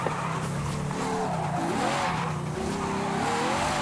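A Ferrari J50 on snow tires in Forza Horizon 5 slides and squeals across the road, a steady loud engine drone with wavering tire squeal and skidding throughout, no voices.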